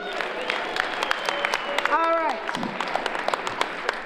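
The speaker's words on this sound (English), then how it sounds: "give yourselves a round of applause for the voting" Scattered audience clapping at the Cleveland Accelerate competition, a moderate round of applause that carries on steadily under a speaking voice for about four seconds.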